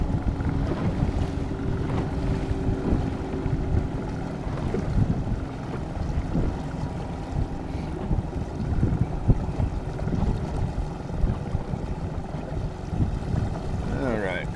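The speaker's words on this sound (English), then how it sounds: "Had to wait for that boat that just went by." A passing boat's motor drones across a lake creek area amid gusty wind noise against the microphone, with a faint voice now and then.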